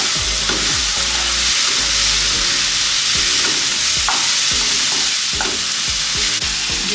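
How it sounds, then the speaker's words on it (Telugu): Ginger garlic paste sizzles steadily in a hot pan for a chicken fry, with repeated scraping stir strokes from a spatula sounding close and loud throughout, no voices. "ఒకసారి కలిపేసి ఇలా టూ మినిట్స్ ఇలా ఫ్రై అవ్వాలి పచ్చివాసన పోవాలన్నమాట"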